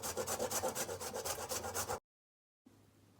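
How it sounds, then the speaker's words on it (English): Whole nutmeg grated by hand for coconut bun dough, a close rhythmic rasping of quick strokes for about two seconds, then silence and faint room noise. "So we're gonna grate some nutmeg in there."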